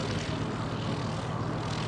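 An RAF Eurofighter Typhoon fighter jet roars at an air show at Duxford, a loud, steady, dense engine rumble with no break.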